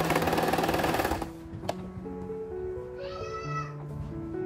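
Domestic sewing machine stitching the side seams of an under-scarf hijab cap, a loud burst of rapid needle clatter that stops after about a second, followed by quieter tonal mechanical hums.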